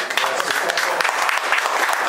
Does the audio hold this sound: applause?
yes